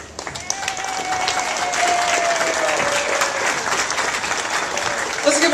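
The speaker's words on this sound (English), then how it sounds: "Let's give a little bit of a round of applause for Dan" Loud sustained crowd applause at an outdoor Tax Day Tea Party rally in Rockville, dense continuous clapping lasting several seconds with scattered cheers and a voice briefly heard in the mix.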